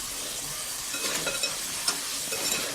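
Potatoes sizzle steadily in hot oil in a pan, with soft scraping stirs and small pops over a constant frying hiss, close and moderately loud.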